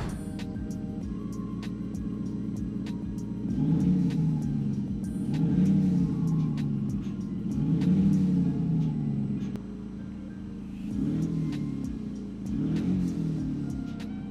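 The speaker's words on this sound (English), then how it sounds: "I think it's probably about time we heard some revving" A diesel car fitted with an aftermarket active exhaust system revs repeatedly near the microphone, several deep rising bursts of engine roar between idle stretches, with no talking.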